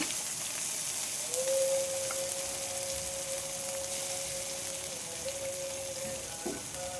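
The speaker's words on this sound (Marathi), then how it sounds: "आता आपल्याला हे तेलामध्ये पूर्ण वाटण टाकून द्यायचं" Ground masala paste frying in hot oil in a home kitchen pan, a steady broadband sizzle running throughout, with a brief stirring scrape near the end.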